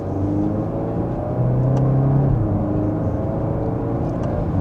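A 2026 Volkswagen Golf R in manual mode pulling through second gear under light acceleration, a steady engine drone and road rumble from inside the cabin with a brief rising tone partway through.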